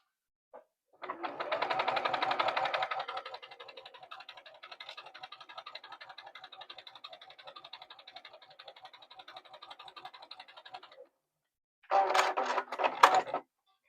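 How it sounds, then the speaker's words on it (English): A sewing machine stitches a quarter-inch seam on a quilt-as-you-go churn dash block, a close mechanical whir that starts fast, settles into a steady lighter run for several seconds, stops, then briefly runs again. "I'm going to flip it to the other side and sew a 1/4 inch there"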